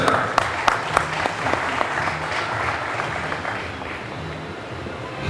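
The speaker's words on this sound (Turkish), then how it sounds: "Alkışlarınız da efendim." Audience clapping at an archaeology conference award presentation, steady and fairly loud from the start and tapering slightly toward the end, with a few sharper claps early on.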